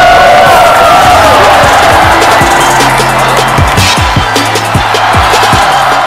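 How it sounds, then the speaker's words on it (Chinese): A crowd in a basketball arena cheers and whoops as a visiting team walks out for a home-court game, a steady loud roar with bouncing balls thudding underneath. "从来没有想到自己出场的时候欢呼声这么小吧"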